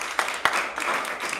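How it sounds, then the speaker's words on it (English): An audience applauds the speakers after a policy talk, giving a short burst of dense, overlapping clapping. "give one more round of applause for Suzanne and Rachel"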